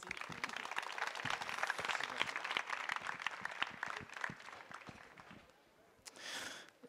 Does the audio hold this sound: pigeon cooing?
no